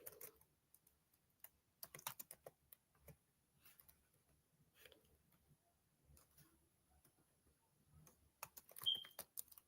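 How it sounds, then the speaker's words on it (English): Typing on a computer keyboard, quiet crisp keystrokes in irregular bursts with short pauses between them, close by with no talk. "Let me type it because let's see."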